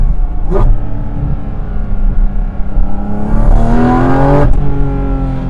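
A Porsche GT4 RS Weissach's flat-six engine revs loudly and close, its harmonic drone rising in pitch toward a peak and then cutting off sharply, with brief bursts at the start and near the end.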